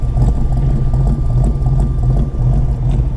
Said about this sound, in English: It literally idles like this. Listen to this lope right here, this bloop,